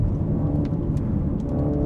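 Exhaust of a 2022 MINI Countryman JCW driven hard through a corner: a steady, loud, dense engine and exhaust roar with a low rumble that holds evenly throughout, heard from inside the car without talk.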